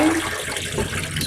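Water is poured into a betta fish tank, making a brief, steady splashing rush at close range.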